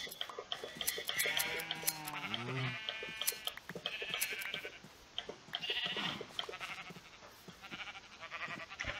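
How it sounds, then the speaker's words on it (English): Several sheep bleating in Minecraft, wavering bleats near the start followed by clicks, ticks and other game sounds, moderately loud and close. "Come here, sheep!"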